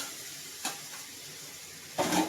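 Potatoes and fish being stir-fried in a pan, with a soft background sizzle broken by two brief scraping stirs, the second louder and longer.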